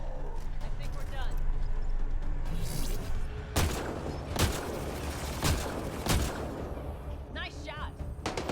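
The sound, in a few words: gunfire in the video game Mass Effect Andromeda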